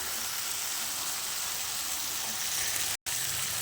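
Chicken fries in oil in a pan, giving a steady, dense sizzle that continues evenly throughout, broken only by a very short drop near the end.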